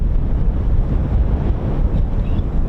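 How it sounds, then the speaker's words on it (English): Steady gusting wind buffeting the microphone, a loud low rumble that persists throughout without pause. "It's still windy, just a reminder."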